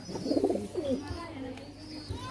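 Pigeons of an Attari border breed give a short burst of low cooing, close by and brief, followed by quieter murmuring in the background.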